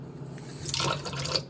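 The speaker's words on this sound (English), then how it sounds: "Add a little bit of water." A little water is poured onto eggs in a container before microwaving. It comes as a soft, brief trickling splash, faint and close, against quiet room noise.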